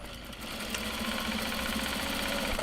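A sewing machine stitches a small sling made of Japanese fabric, its steady mechanical whir running continuously and fairly loud throughout, with no voices over it.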